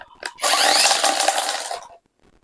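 Procraft PTA24BL cordless string trimmer switched on with its spool spinning freely, giving a loud close whirring buzz for about a second and a half before spinning down to silence, after a few light clicks.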